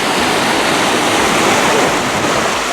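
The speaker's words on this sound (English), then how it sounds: "You can hear the rushing sound of water" Water rushes over big rocks beside a covered bridge and pedestrian passageway, heard on a bicycle ride as a loud, steady, broadband roar close by with no pauses and no talking.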